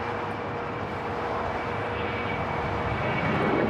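An Air Tahiti Nui Boeing 787-9 Dreamliner is pushed back at Los Angeles International Airport, giving off a steady, moderately loud engine whine and rumble with a faint tonal hum throughout.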